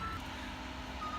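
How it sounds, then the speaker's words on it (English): A power utility truck reverses on a residential street while crews work on a tree caught in electrical wires. Its backup beeper sounds faint and distant over a steady engine rumble, and no one speaks. "the second power utility truck has returned"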